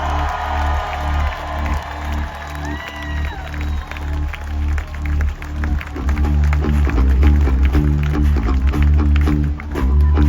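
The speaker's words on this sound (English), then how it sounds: "One more round of applause for our new friend, Myles." Concert crowd applauding and cheering at a rock show in Lincoln, Nebraska, the clapping rising and growing louder over loud, continuous band music with a steady low rhythmic pulse.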